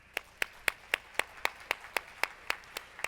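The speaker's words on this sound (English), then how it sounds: "I do want to give them a big round of applause first" A single person claps at an event for sponsors, a steady run of about twelve sharp, evenly spaced claps, moderately close and fairly quiet, with no voices.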